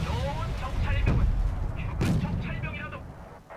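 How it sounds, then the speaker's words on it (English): Artillery fire in the video game Wargame Red Dragon: a couple of heavy booming shots about a second apart, each breaking over a dense, continuous rumble of battle noise. "Looks like they've got artillery."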